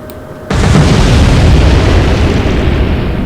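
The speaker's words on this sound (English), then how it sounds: "that's the Electra sunk immediately from the 2 torpedo hits" Torpedo hits sinking a ship in the naval strategy game Atlantic Fleet: a loud, sudden boom at the half-second mark swells into a sustained roaring explosion that rumbles on for several seconds, with no voices.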